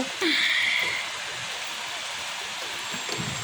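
Heavy rain and strong wind outside a window pour down in a loud, even wash of hiss and roar, briefly topped by a thin higher tone at the start, then steady to the end.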